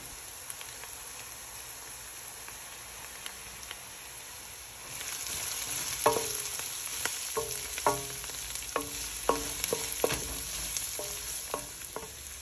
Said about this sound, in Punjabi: ਅਤੇ ਹੁਣ ਆਪਾਂ ਕਰਾਂਗੇ ਕੈਰਟਸ ਨੂੰ ਸਟਰ।